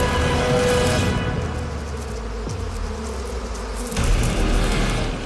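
Inside a beehive, rival queen bees fight while a dense, loud buzzing of the colony drones continuously, with a low thump partway through.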